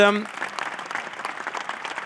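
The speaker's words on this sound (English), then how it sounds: "Big round of applause" Audience applause at an awards evening breaks out just after a brief tonal sound at the start, a steady patter of clapping from a gathered crowd continuing for a couple of seconds.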